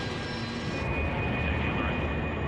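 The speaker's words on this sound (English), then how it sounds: "now the pilots rev the engines while standing still" Turbofan engines of a very large aircraft run up to high power while it holds still on its brakes, a loud, unbroken roar with a high whine riding over it, steady and close for a couple of seconds.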